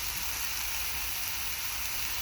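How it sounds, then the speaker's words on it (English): Venison steaks searing in a seasoned pan, a steady dense sizzle that stays loud and even throughout with no pauses. "Get a nice sear on it."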